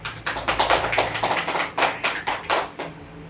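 Classroom applause for a student group, a burst of several hands clapping irregularly at close range for about three seconds before tapering off, with no talking over it.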